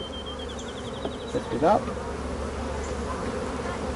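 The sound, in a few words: honey bees buzzing in an opened hive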